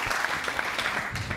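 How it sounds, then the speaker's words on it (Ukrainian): Audience applause at a Ukrainian comedy show, a dense steady patter of many hands clapping throughout, fairly loud and close with no talk over it. "Оплески, ваше Тарасу Єремію, файно, клас!"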